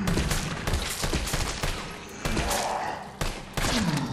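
Gunfire in Resident Evil 3 Remake in a hospital setting, with a rapid, loud barrage of shots and heavy thumps filling the whole stretch, with brief gaps between bursts.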